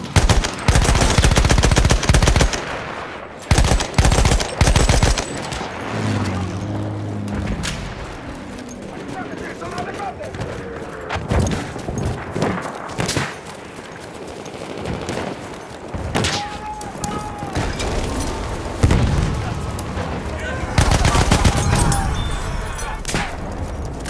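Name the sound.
machine gun fire in the video game Battlefield 1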